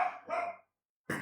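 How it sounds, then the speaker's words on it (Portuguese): Dogs bark close by: two quick barks, a short silence, then a third bark, fairly loud with no talk over them. "Ih, os cachorros."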